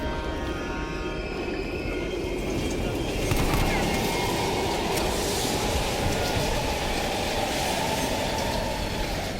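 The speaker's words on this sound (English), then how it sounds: "We can use a train to slip past." Train in Black Ops Cold War rolling through an abandoned East German station: a loud, steady rumble with a rattle that holds throughout, with faint voices underneath.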